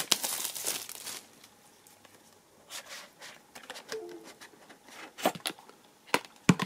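Packaging around a FNIRSI HS-01 soldering iron is opened, with close bursts of crinkling plastic and paper, scattered taps and sharp clicks in an irregular sequence.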